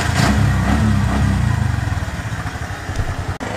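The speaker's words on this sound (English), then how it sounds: "turn this to the right and give it a flick of gas" Tuk-tuk engine revs hard right after a flick of the throttle, a loud close sputtering rasp that eases into a steady pulsing idle with a short dip near the end.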